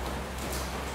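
Steady rain falls outside in December, a dense, even hiss of drops on surfaces filling the whole moment without break and without any voices.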